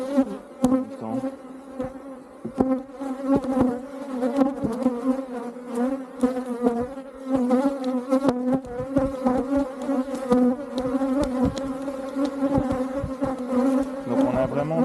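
Honeybees buzz densely and continuously around an open beehive during a routine hive inspection, a close, loud, steady swarm hum with no talk.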